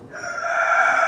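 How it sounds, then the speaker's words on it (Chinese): A rooster crows once, close and clear, near a cave dwelling high in the mountains of Hubei, a single rising cock-a-doodle-doo with no other sound around it. "还有公鸡在叫。"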